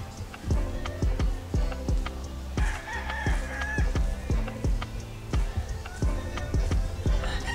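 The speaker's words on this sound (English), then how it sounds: "with these roosters crowing like these, I'm not gonna need an alarm clock" Several roosters honk and crow loudly nearby in a backyard in Fort Lauderdale, their calls overlapping with repeated sharp knocks in a busy, cluttered outdoor scene.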